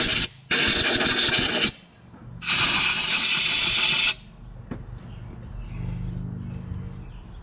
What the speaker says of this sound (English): This is a rotary deburring tool, also known as a rotoburr, whirligig, or that scraper thingy